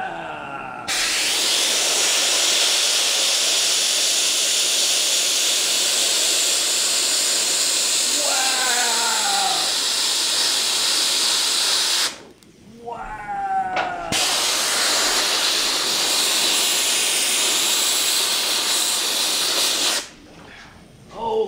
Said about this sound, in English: Not doing some airbrushing on there